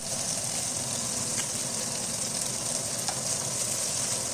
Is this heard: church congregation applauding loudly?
no